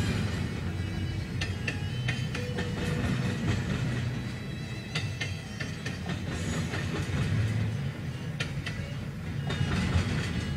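A BNSF freight train picks up speed, a continuous low rumble of rolling cars with intermittent metallic clanks and wheel clicks, heard steadily at moderate distance throughout.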